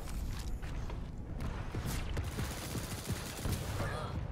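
Rapid nail gun fire in Quake Champions during a 2017 beta team deathmatch, a dense stream of quick mechanical shots with clatter and footsteps over a busy game mix.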